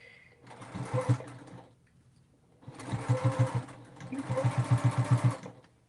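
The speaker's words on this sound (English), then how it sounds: "Oh, it stopped stitching." Sewing machine stitching fabric: three bursts of rapid mechanical chattering, each a loud close run of fast needle strokes, with short pauses between the bursts and no talking.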